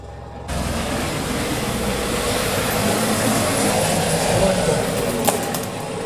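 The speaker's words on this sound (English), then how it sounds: "A whole helicopter flew over us." A helicopter passes overhead outside an abandoned city, heard as a steady, loud broadband rotor and engine roar that swells slightly toward the middle and holds throughout, with no clear talk over it.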